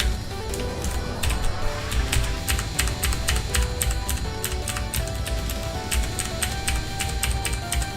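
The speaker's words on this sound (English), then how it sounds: "big fan of mechanical keyboard ASMR too, that's why I wanted blue switches." Fast, steady typing on a mechanical keyboard with blue switches sounds close and crisp, with sharp clicky keystrokes in quick runs over a faint background hum.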